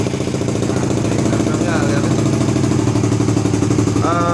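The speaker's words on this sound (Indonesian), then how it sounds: "sekarang kita cek soundnya kita coba di RPM 2000 ya" A Suzuki GSX-R150 fitted with a Nobi racing exhaust is held at 2000 rpm, giving a loud, close, steady burbling engine drone that continues unbroken throughout.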